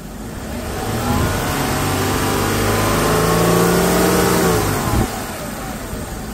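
A car engine revs up from idle during an alternator and charging system check, rising to a steady high drone for a few seconds before the throttle drops back.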